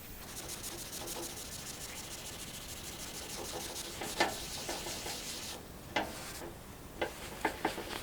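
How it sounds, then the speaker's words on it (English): A sponge rubs and scrubs a gritty surface on a classic Blackhawk metal tool chest, giving a continuous faint scraping hiss with a few sharper taps and knocks toward the end, no speech. "I'm going to use a sponge to work it in and just see what it would look like"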